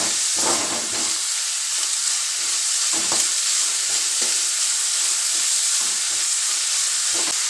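Onions fry in a pan with a steady, loud sizzle and hiss, broken by occasional stirring scrapes, and no talk.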